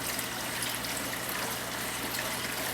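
Water trickles steadily from an aquarium drip acclimation siphon, a continuous close hiss and splash with no breaks.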